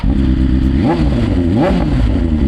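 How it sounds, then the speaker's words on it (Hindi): A superbike engine starts and idles loudly and steadily, its pitch rising and falling in two quick revs, with no talking. "पहले करते हैं बाइक को स्टार्ट।"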